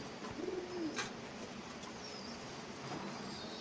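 A soft, low coo from Pankhi pigeons at a pigeon sale comes once early on, close by, over faint steady background noise with no talk.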